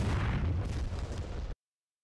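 Bomb explosion dropped from an AV-8B in the combat flight game DCS World, a loud rumbling blast that rolls on for about a second and a half before cutting off abruptly.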